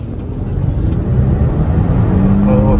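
A luxury car accelerating hard from 0 to 100 on a road gives a loud, rising engine roar mixed with heavy wind rush, building steadily toward the end.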